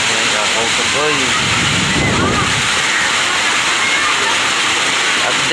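Strong storm wind and heavy rain from Typhoon Uwan in Biliran roar as a loud, steady broadband rush, with a voice talking faintly over it.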